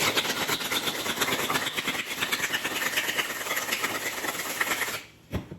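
A cocktail with green grape rattling in a shaker, a dense continuous scraping shake of ice and liquid for about five seconds, then stopping abruptly with a final knock.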